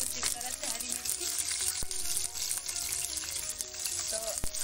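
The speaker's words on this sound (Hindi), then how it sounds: "तो मैं इसमें मिर्ची डाल दे रही हूँ, कुछ इस तरह से हरी मिर्ची।" Green chillies frying in hot oil in an iron wok, a steady loud sizzle with crackling and a few sharp clinks of a utensil against the metal, no voices.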